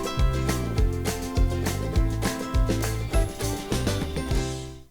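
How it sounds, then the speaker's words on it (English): Non-diegetic film score music over an art card, a full, bright mix with punchy low drum hits and sustained tones, continuous and moderately loud with no voices. "And then during the art card, we have non-diegetic music, which sounds like this."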